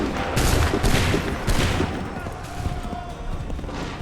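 A volley of muskets from a line of soldiers in Assassin's Creed III, loud crackling bursts in quick succession over the first second and a half, followed by lingering battlefield noise and scattered shots.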